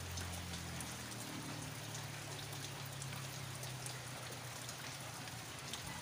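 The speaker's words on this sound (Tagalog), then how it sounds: "Buti na lang po ang ulan, medyo humina na." Steady rain pours down outside a house during a flood, a dense, continuous hiss with close droplet patter and a low rumble underneath, no voices.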